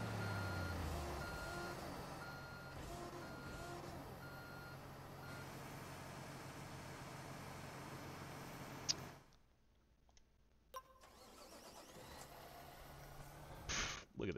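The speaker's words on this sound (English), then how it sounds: "My dump truck has gone rogue." A dump truck in Construction Simulator 2 gives a steady run of reversing beeps over a low engine rumble. Then the sound cuts out abruptly, and a few faint clicks and thumps follow.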